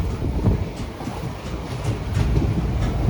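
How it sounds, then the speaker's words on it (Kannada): A moving passenger train carriage on the way to Goa rattles and shakes. A steady low rumble runs beneath loose clattering and faint rhythmic wheel clicks, close and continuous. "ಟ್ರೈನ್ ಫುಲ್ ಅಲ್ಲಾಡ್ತಾ ಇದೆ"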